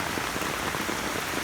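Heavy pouring rain falls over a saturated, flooded yard, a dense, steady hiss of drops close by and alone throughout.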